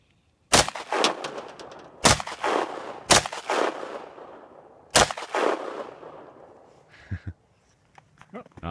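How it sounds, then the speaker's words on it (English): An SKS rifle fires into a snowbank outdoors, four sharp, loud shots spaced irregularly over several seconds, each followed by a short echoing tail, then a couple of faint clicks. "Marty Thurston here, firing his SKS. Attacking a snowbank."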